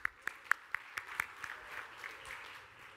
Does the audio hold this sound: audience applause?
yes